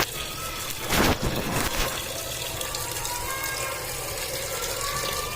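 Water splashes into a cooking pot with a short, louder gush near the start, then a steady softer pour and trickle that continues to the end.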